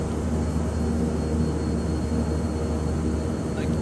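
An airplane takes off without flaps in Microsoft Flight Simulator 2020, with a steady, loud engine roar that stays even for the whole stretch.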